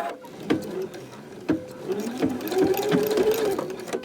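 A sewing machine back stitches elastic onto a T-shirt face mask, its motor whirring in steady bursts with sharp clicks as it starts, reverses and runs forward, close and fairly loud.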